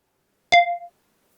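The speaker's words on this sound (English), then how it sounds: "She hears the beep. The laundry's ready" A toy washing machine in a Peppa Pig dollhouse laundry set gives a single short electronic beep signalling the laundry is done, a clean tone with a brief decay, alone against silence.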